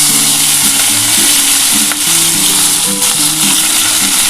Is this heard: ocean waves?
no